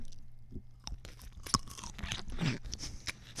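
Close, intimate crunching and chewing of a pickle, with several crisp bites and wet mastication sounds over a few seconds, faint and quiet with no talk.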